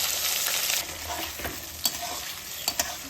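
Chopped onion sizzles steadily in hot mustard oil with whole cardamom, cloves, cinnamon, bay leaf and cumin, browning while a spoon scrapes and taps the pan in a few sharp clicks; close and continuous, no talking.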